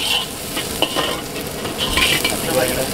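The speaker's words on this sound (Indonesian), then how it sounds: "Proses pembuatan nasi goreng gila, Bang, ya?" Nasi goreng gila fries in a wok, a continuous oily sizzle broken by quick metallic scrapes and stirring strokes of a spatula, close and steady for a few seconds with no talking.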